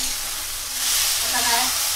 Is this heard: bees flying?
no